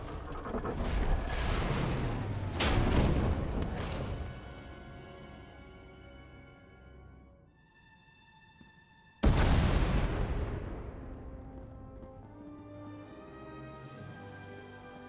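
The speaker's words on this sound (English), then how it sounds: "We heard explosions." Deep rumbling explosions in Star Wars: The Old Republic, a tunnel collapsing, two heavy blasts early, a quiet lull with a sustained tone, then a sudden sharp boom that rolls away slowly.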